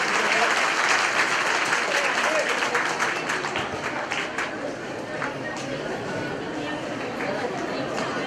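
Sustained applause from a crowd at a village primary school's Republic Day celebration in Norta, steady and dense throughout with murmuring voices mixed in.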